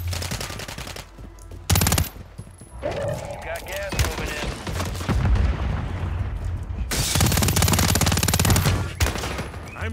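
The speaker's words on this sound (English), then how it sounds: "I'm taking fire." Gunfire bursts in a Call of Duty: MWIII Resurgence match, with heavy automatic fire and booming shots coming in loud waves and a long sustained barrage near the end, mixed with game effects and some talk.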